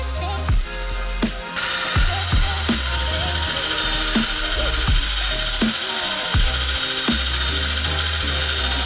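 A power drill bores into a snapped wheel lug bolt on an E36 car, its motor whirring in repeated short bursts with brief pauses, close and loud.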